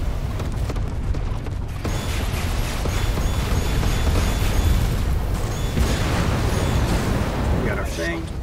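Dense, continuous roar of jet-aircraft missile fire and explosions in a Battlefield-style video game, loud and sustained with layered booms throughout, and a voice talking over the din.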